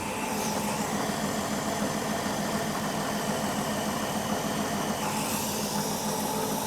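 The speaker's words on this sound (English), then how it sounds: "Oh, I love to hear that engine running." A 1967 Ford Mustang engine with Holley Sniper EFI idles steadily and close by, a continuous rumbling hum with no voices.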